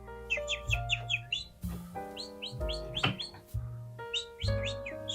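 Pet Java sparrows chirp in bright, repeated bursts from their cage, with a sustained harmonic tone and some low clatter running underneath.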